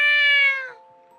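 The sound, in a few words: cat meowing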